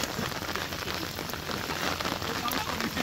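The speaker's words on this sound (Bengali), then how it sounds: "এইবার বৃষ্টি হবে।" Steady rain patters across a paddy field in a dense, even hiss that never lets up, heard close and moderately loud.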